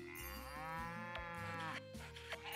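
Goat bleating in the farming video game Story of Seasons: Pioneers of Olive Town, a steady drawn-out nasal call with layered tones, heard alone and fairly close.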